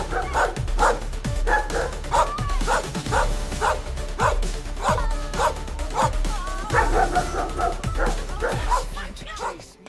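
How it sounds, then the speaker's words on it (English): Dogs bark repeatedly while chasing a jackal through dusty streets, a steady, rapid run of loud yips and barks, several animals close by, with some whimpering mixed in. "With barks echoing through the dusty streets, they began their relentless chase"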